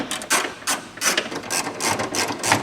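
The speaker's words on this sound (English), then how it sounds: "Next we're going to get in there with a ratchet and remove those 10 millimeter bolts." A ratchet clicks in rapid bursts, loosening 10 mm bolts inside a Toyota Camry door panel, the metallic pawl chatter repeating in quick uneven runs close to the mic.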